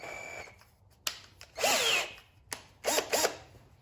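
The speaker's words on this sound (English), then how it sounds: "get a drill, cordless or one that plugs in" A cordless drill fitted with a small yellow polishing pad for headlight restoration whirs in short bursts, several separate rising and falling spins with pauses between them, close up and with no speech.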